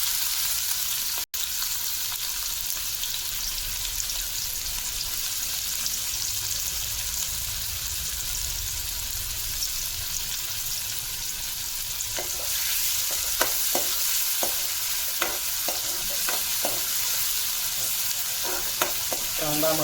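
Finely chopped onion frying in hot oil for a squid dish, a continuous close sizzle that turns busier near the end as a spatula scrapes and stirs in repeated strokes.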